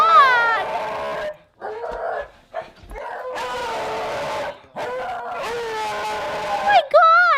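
A dog yips and whimpers in repeated high, wavering bursts near a doghouse and pen, with people talking between and over the calls.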